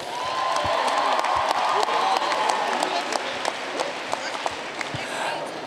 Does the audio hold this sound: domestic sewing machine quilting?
no